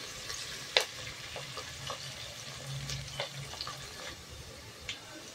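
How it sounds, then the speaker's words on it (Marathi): Sliced onions frying in a pot while being stirred steadily to crisp them for chicken biryani, a continuous soft sizzle with scattered clicks and scrapes of the spoon, no voices. "आपल्याला क्रिस्पी पाहिजे, कुरकुरीत पाहिजे, त्याच्यामुळे ह्याला सतत आपल्याला स्टरिंग करत राहायचं आहे."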